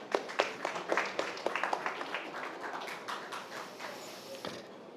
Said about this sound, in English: Glassity, a round of applause for you.